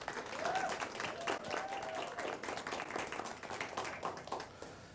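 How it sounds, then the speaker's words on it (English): An audience at a Teacher of the Year and School-Related Employee of the Year event applauds eight nominees; steady, fairly faint clapping from many hands continues for about five seconds with some voices mixed in. "Let's give these 8 nominees a round of applause."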